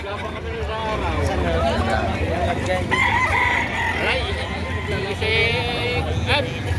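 Young stag roosters of a Peruvian line crow and cluck at a busy livestock market, loud and close, with several overlapping calls under ongoing conversation between buyers and sellers.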